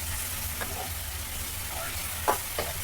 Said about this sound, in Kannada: ಇದನ್ನು ಬದನೆಕಾಯಿಯನ್ನು ಚೆನ್ನಾಗಿ ಫ್ರೈ ಮಾಡ್ಕೊಳ್ಳೋಣ.